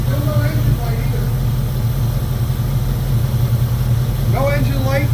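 A 2002 Jeep Grand Cherokee 4.7 V8 with a melted coil and misfire history idles with a steady low rumble, while someone talks over it near the start and end.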